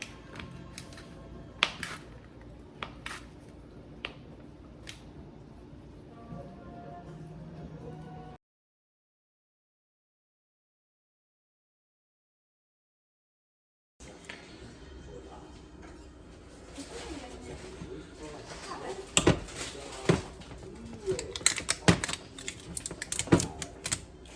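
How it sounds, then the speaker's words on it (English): Sharp knife taps from chopping rosemary on a board, for arrosticini boscaiola, come in a scattered quiet run, break off into silence for several seconds, then return as a denser, louder burst of chopping clicks. "Cut up some rosemary."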